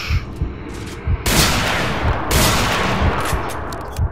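Shotgun blasts in the game S.T.A.L.K.E.R.: Shadow of Chernobyl, two loud booming shots with long noisy tails over a dense, rumbling game background, close and without speech.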